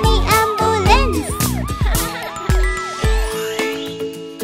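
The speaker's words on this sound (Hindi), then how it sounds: "देखो एक एम्बुलेंस। नीना नीना।" Ambulance siren in a children's song: a cartoonish two-tone wail in quick repeated sweeps over bright bouncy music, loud and close with no talking.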